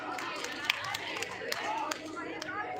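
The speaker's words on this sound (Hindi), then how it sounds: "जोरदार ताली से अभिनंदन" An audience at a festival gathering applauds with scattered, moderately distant clapping, mixed with crowd chatter and speech running underneath.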